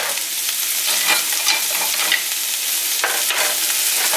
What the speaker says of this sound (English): Right now I'm just going to add the onions into the saucepan